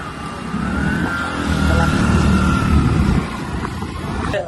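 Night road traffic on FC Road, with cars and motorcycles passing close by in a continuous engine roar and a rising and falling whine, while people talk over it.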